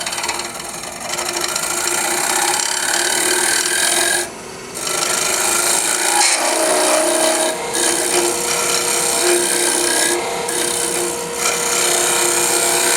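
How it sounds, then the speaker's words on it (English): A scraper works across spinning cocobolo wood on a lathe, giving a continuous loud rasping scrape with a few brief dips, no speech over it. "So if you got tears or whatever, you need to go in with a scraper."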